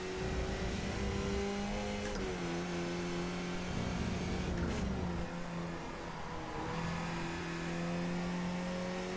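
A race car engine in the iRacing video game drones steadily as it accelerates out of a corner. The pitch dips and climbs through gear shifts over about nine seconds, with no talking.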